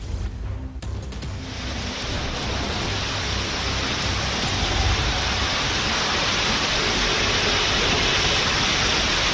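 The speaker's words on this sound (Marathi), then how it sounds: "वेस्टर्न एक्सप्रेसवेवर विले पार्ले जवळ पावसाने दमदार हजेरी लावलेली आहे" Heavy monsoon rain near Vile Parle on the Western Express Highway in Mumbai, a steady dense roar of downpour that holds constant and loud throughout with no voices.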